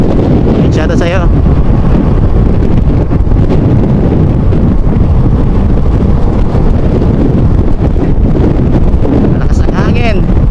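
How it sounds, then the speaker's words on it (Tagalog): Strong, steady wind buffets the microphone throughout, a loud continuous low roar beside a roadside where cargo trucks pass, with faint voices briefly audible under the rumble. "Malakas ang hangin."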